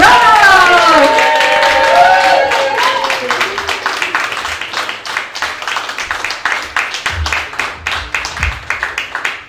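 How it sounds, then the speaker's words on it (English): An audience at a showcase event breaks into a round of applause, dense clapping and cheering that thins to scattered rhythmic claps, with some voices and music at the start. "get a big round of applause going"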